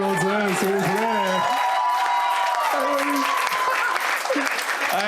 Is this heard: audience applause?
yes